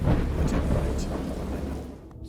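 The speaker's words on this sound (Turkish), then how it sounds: "Her halükarda çatırdayan göğün seslerini ve doğanın tepesinin gerçekten attığı zamanlarda çıkardığı" Thunder in the video game Dagon, a deep, loud rolling rumble with rain hiss beneath, sustained for about two seconds before tapering off, with no speech.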